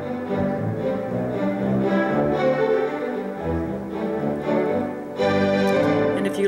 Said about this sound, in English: but I do generally do two tracks of orchestral strings.